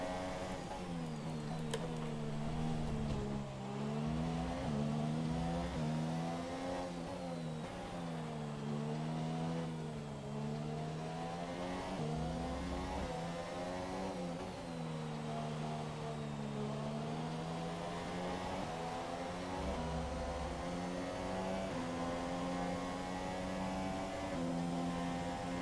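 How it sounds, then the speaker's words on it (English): A Formula 1 car engine in the racing game F1 2017 drones steadily with a wavering, sliding pitch, its tone rising and dipping unevenly as if straining, with a few low thumps underneath across the whole stretch. "You hear the car making weird noises as well."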